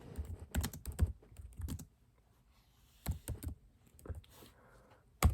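Keys on a computer keyboard tapped in short irregular clusters, close and moderately quiet, with brief gaps of near silence between the bursts.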